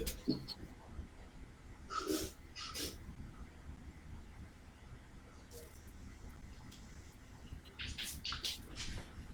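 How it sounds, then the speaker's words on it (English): Someone blows their nose at close range: a few short, noisy bursts of forceful blowing and snorting separated by quiet stretches. "I want to quickly blow my nose"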